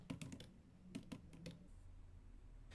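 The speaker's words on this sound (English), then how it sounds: "we'll type in this file name here" A file name is typed on a computer keyboard in a few quick bursts of close, quiet keystrokes with short pauses between them.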